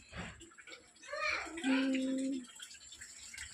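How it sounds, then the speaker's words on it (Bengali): Two plates are washed under a running tap, with a short gush of water lasting about a second. A person talks before and around it. "ওই থালা দুটো আমি এখন ধুয়ে রাখলাম"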